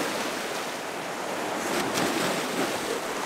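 Gentle sea waves wash against the Blackpool sea wall at night, a soft continuous surf with a slightly louder swell midway, mixed with light wind noise.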